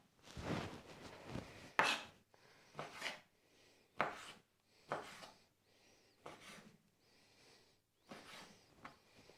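Knife chopping beef into small cubes on a chopping board, a series of sharp irregular thwacks and scraping cuts, close and fairly quiet, with no talk.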